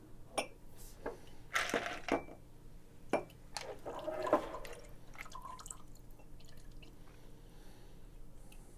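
Wild Turkey 101 Rye and Old Forester 100 Proof Rye whiskey being poured into glasses, with a few soft splashes and light glass clinks scattered through a quiet room.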